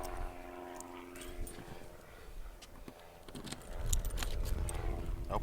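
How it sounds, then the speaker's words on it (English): Keys jangle during the teardown of a Luxe Flush 8-stall/10-stall restroom trailer, with scattered light metallic clinks and a louder burst of rattling near the end over a faint background hum. "My keys is exactly where they're supposed to be, magnetized to the box"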